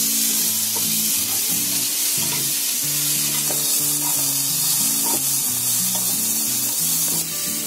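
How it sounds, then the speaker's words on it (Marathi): Chopped onion, capsicum and tomato fry in butter with a loud, steady sizzle and occasional stirring scrapes, close up, over soft background music. "आता आपला कांदा शिमला मिरची चांगली फ्राय झाली आहे"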